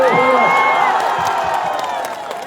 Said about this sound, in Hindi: इतनी ताली बजाओ कि पटना से लेकर के हैदराबाद तक इसकी गूंज आए